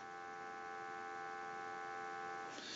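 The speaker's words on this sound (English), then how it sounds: "We'll give you some dial tone." A steady telephone dial tone plays through an AT&T 323 rotary candlestick telephone, a continuous even hum held unchanged and fairly loud with no talk, brightening slightly at the very end.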